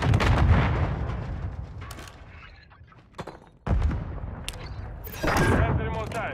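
Sentry gun firing during a multiplayer search-and-destroy match in a shooter video game, loud booming gunfire bursts with heavy low thuds, broken by a brief lull, with a player talking over parts of it.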